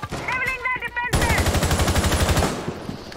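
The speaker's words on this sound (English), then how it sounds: "Kelly accidentally shot me" Rapid automatic gunfire in a shooter video game, a long loud burst of evenly spaced shots after brief talk, then fading.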